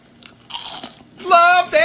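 Crunchy bites into Popeyes fried chicken close to the microphone, crackling bursts followed by a voice speaking over the end.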